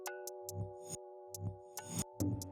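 Synthesized dubstep bass with diode distortion and an LFO modulating it, heard as short pulsing, wobbling hits with bright noisy bursts, repeating roughly every second at moderate loudness with no talk.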